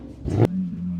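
A Porsche 911 GT3 RS (991) at a car meet gives a short, sharp engine rev that cuts off, then settles into a steady idle hum, moderately close.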